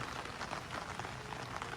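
Rain falls in the Philippines as a dense, even hiss of drops striking surfaces, steady and fairly close with no talk over it.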